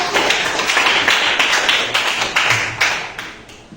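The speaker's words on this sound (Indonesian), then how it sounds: "kita tepuk tangan dulu untuk kelompok 1" Students in a high school geography class break into dense, steady applause for a presenting group, a crowd of close hand claps that holds for several seconds and starts tapering off.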